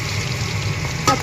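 Green chilies fry in a pan for Bicol express, giving a steady close sizzle with a brief louder spatter near the end.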